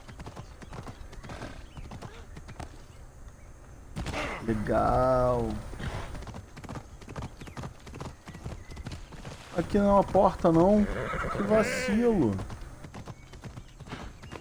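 Horse hooves clip-clopping steadily in a video game, with a couple of neighs, while someone talks over the sounds in Portuguese.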